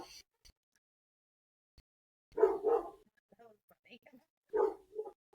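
A dog barks indoors, two pairs of short, close woofs separated by a pause in an otherwise quiet room.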